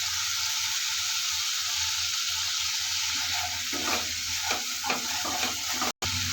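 Potatoes fry in oily spice masala for Bengali aloo dum, giving a loud, steady sizzle throughout, joined in the second half by bursts of stirring and scraping in the pan.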